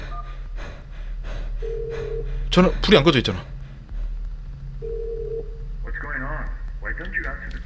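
In the horror game Krampus Is Home, a telephone rings in two short electronic bursts separated by a pause, while a person talks loudly over it.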